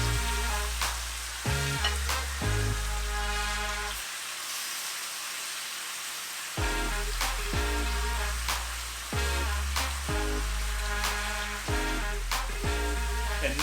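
Oxtail pieces browning in a hot pan, loud continuous frying sizzle with repeated stirring knocks and a short quieter gap midway, close and steady throughout.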